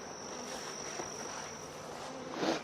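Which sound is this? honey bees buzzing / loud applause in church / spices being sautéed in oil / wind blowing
honey bees buzzing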